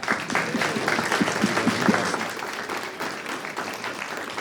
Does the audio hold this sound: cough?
no